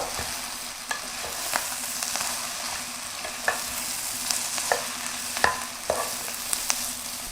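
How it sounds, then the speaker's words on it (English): Onions and mushrooms fry in a pan alongside garlic chicken, a steady broadband sizzle running throughout with occasional soft clicks and scrapes of stirring, close and moderately loud, no voices. "Once the onions are cooked, add the mushrooms. Cook 2 minutes with the mushrooms."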